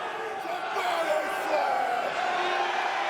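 A crowd at a 20-man gauntlet professional wrestling match roars continuously with cheers and shouts, a steady wall of arena noise over the full stretch with no break.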